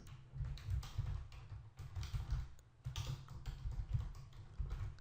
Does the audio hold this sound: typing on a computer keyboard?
yes